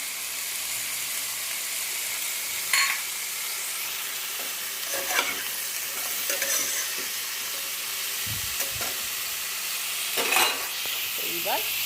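Spices with turmeric and coriander powder fry in a pan while being stirred: a steady, even sizzle broken by a few louder spoon scrapes at irregular intervals, with no talking.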